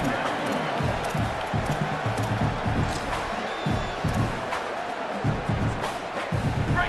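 Crowd noise from stadium fans in a college football video game, Air Force at Army, roaring steadily for the defense after a run is stopped at the line, with a commentator talking over it throughout.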